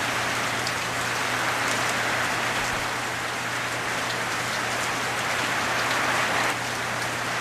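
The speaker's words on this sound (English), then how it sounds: "It's raining so hard." Steady, heavy rain pours down without a break, a dense hiss of drops hitting surfaces close by, with no voices.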